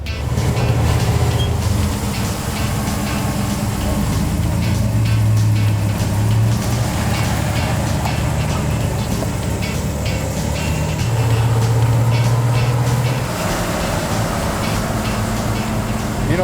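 A stock muscle car with factory suspension cruises along a road, its engine and road noise rumbling loudly and steadily from inside the cabin, with low swells in the drone.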